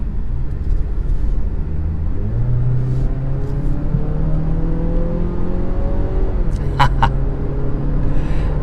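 A 2020 Mazda CX-30 small crossover accelerates up a highway on-ramp, its engine note rising in steady stepped pulls under constant road and wind rumble heard from inside the cabin.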